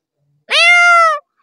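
A performer's voice imitates a cat's meow: one drawn-out, tonal, slightly rising then steady mew lasting under a second, close and loud, with silence before and after.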